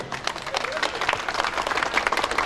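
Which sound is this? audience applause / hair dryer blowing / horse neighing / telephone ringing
audience applause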